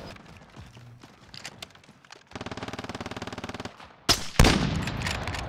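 A C-58 rifle fires in Warzone in a steady, rapid automatic burst of evenly spaced shots lasting over a second, followed by a louder, harsher blast and noisy crackle.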